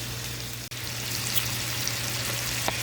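Pork chop stuffing sautés in a pan with a steady, close frying sizzle that holds constant throughout, broken only by a brief dip and a few small pops.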